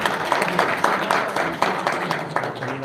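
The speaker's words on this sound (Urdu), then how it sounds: "آپ کی بھرپور تالیوں میں" An audience at a university speech gives a short burst of applause, with uneven, pulsing claps of moderate loudness.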